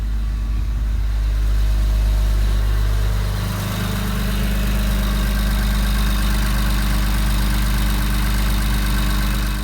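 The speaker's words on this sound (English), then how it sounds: "my idle is perfect for a cold start" A 2016+ Infiniti Q50 Red Sport VR30 engine idles steadily on a cold start with a deep, even rumble and a faint mechanical whir, constant throughout with no voices.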